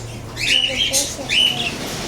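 Small pet birds bought cheaply give a few sharp chirps and squawks in short bursts close by, with soft voices faintly in the background.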